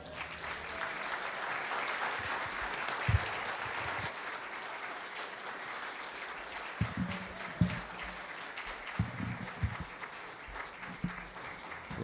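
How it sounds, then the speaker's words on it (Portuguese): A church congregation applauding to welcome a pastor, sustained crowd clapping that fills the room at moderate loudness, with a few louder thumps and faint voices underneath. "Vamos receber o pastor Rafael aplaudindo ao Senhor."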